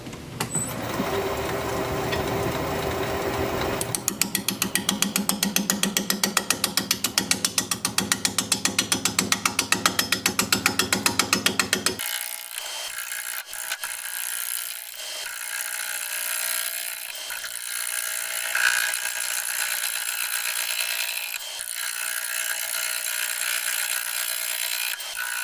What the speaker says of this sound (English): we're going to be turning at 450 RPM, 5/8 inch bowl gouge